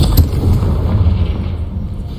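A Confringo fire-blast spell in Hogwarts Legacy: a booming explosion with a deep, rumbling low-end roar that lingers and slowly fades, loud and close.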